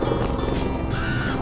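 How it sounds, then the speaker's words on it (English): Crows caw over a loud, constant rumble of engine or rotor noise at a Grand Canyon outdoor spot, the calls faint and partly buried beneath the steady drone. "We've got quite a few crows around here."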